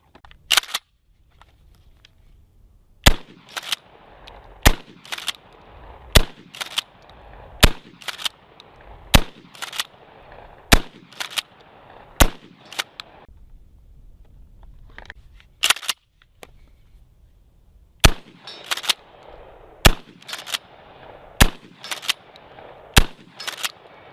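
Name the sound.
shotgun firing buckshot and slugs, KSG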